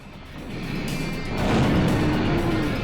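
Engine of a Warthog vehicle in a video game, a rough rumbling drone that grows louder and rises slightly in pitch partway through, with no talking.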